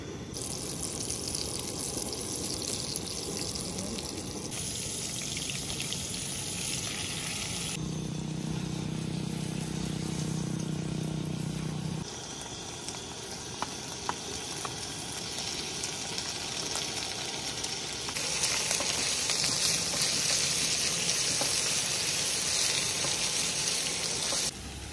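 Goat fried rice sizzles steadily in a hot pan, a loud continuous frying hiss with occasional stirring scrapes and shifts in intensity, close up and with no talking.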